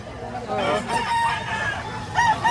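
A bullstag rooster crows loudly and close by, its strained, drawn-out call wavering, followed by a second shorter crow.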